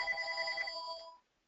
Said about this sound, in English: I apologize for that phone ringing.